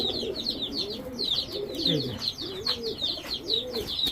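Chuya Chandan pigeons coo in a loft, low rolling coos repeating every second or so with higher chirps and twitters layered over them, close and steady.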